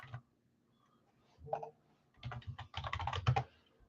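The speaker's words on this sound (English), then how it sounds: "Not typing very good anymore." Bursts of typing on a computer keyboard during a late-night live sports card break stream, close clicks and clacks in short irregular clusters separated by pauses.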